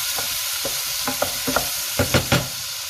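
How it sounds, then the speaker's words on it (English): Onions and tomatoes fry in a pan as the base for a prawn curry, giving a steady bright sizzle with intermittent scraping stirs and soft clacks close by, and no voices. "I'm adding the onions and just some tomatoes right now. Basic step for all kind of curries. Let that fry"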